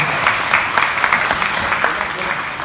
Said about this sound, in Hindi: इनके लिए एक और तालियां।